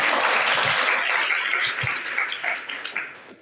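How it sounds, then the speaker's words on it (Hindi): An audience at an inter college prize ceremony claps for a second-prize winner, a full burst of applause that gradually thins into scattered claps. "आप लोग तालियां बजाइए भाई।"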